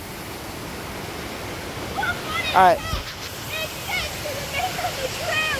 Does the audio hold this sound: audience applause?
no